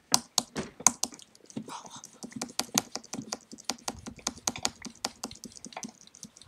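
Rapid, clattery keystrokes on a computer keyboard, fairly close and quiet, come in an uneven run of dozens of crisp clicks with short pauses between bursts.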